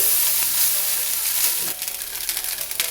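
Leftover-style fried rice with vegetables and eggs sizzles loudly in a hot pan, a dense continuous crackle that turns into choppier stirring and tossing noises toward the end, close and unaccompanied by speech.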